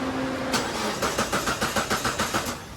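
A car engine cranks with a quick, rhythmic run of about a dozen chugging pulses, loud and close, as it tries to start.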